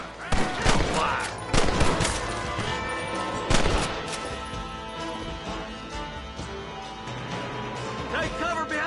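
A Red Dead Redemption shootout near an outhouse brings repeated close gunshots in irregular bursts and volleys, some sharp and loud, with voices calling out between the shots.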